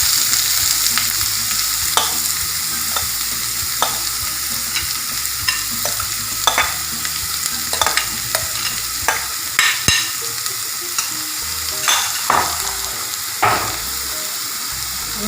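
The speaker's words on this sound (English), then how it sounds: "One red chili, a few curry leaves, then you put in the cabbage." Cabbage stir-fried over high flame with red chili and curry leaves, a steady sizzle under repeated sharp scrapes and clinks of a spatula stirring the pan, close and loud, no voices.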